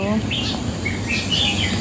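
Several birds chirp and call outdoors in a mountain garden, with a few brief, bright tweets that rise and fall against steady background noise.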